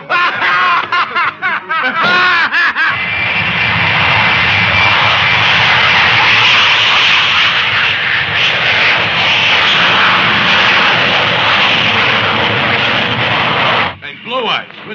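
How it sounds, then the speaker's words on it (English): Steady, loud drone of an airplane engine in flight, holding for most of the clip, with brief voices and laughter at the start and end. "Why is the plane flying empty?"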